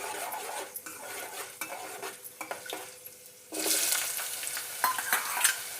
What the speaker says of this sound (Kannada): ಈ ಸೋರೆಕಾಯಿ ಹಾಕ್ತೀನಿ.